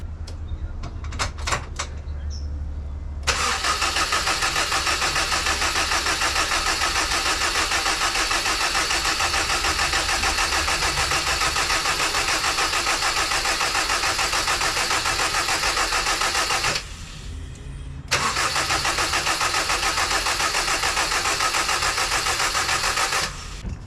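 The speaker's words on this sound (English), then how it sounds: "I'm going to dry fire it to get the oil circulated" Honda CR-V RD1 engine cranked with the fuel injectors disabled, so it turns over without firing: a steady, loud, sustained starter-motor whir lasting many seconds, with a brief pause before cranking resumes.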